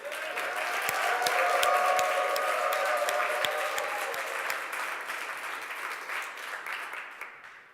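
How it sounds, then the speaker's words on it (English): An audience at a VR tech convention rally claps and cheers steadily for several seconds, with dense, sharp hand claps at an even level before the applause tapers off at the end. "Cheer now"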